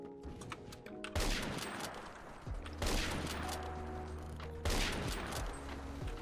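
An R700 sniper rifle fires in the video game Phantom Forces, three loud booming shots spaced a couple of seconds apart, each trailing a long ringing tail.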